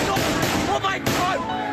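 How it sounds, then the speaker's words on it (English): Gunshots ring out inside a South Florida high school during a shooting rampage, loud sharp bangs cutting through a dense, chaotic background with voices. "gunshots ring out in this South Florida high school"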